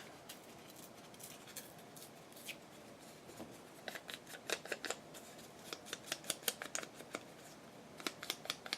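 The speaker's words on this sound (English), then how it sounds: "I need to rip this a little bit." Paper torn by hand during a Valentine craft project, sparse soft rips at first building into quick bursts of short, crisp tearing sounds, close and alone.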